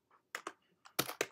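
Computer keyboard keys typed in a quick, close run of about six sharp clicks, some in close pairs, with no voice.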